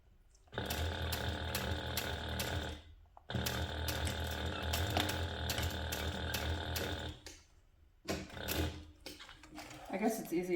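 Sewing machine stitching a seam through clear TPU and jelly vinyl for a shaker-style pouch, running in two long loud bursts with a brief pause between them, then a short third run among handling noises.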